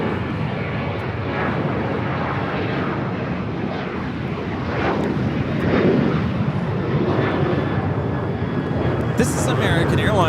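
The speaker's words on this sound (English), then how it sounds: "This is American Airlines 1600 taking off to Chicago on the 737-800" An American Airlines Boeing 737-800 departs LAX with a sustained jet roar that swells midway and stays strong, while voices talk throughout.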